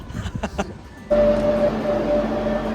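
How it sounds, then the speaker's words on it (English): A Barcelona metro train sounds in the underground, with brief clatter and then a steady loud rumble and a sustained whine from the train as it runs. "Metro in Barcelona."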